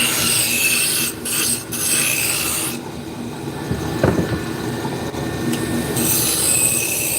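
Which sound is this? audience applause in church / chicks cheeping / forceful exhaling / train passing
train passing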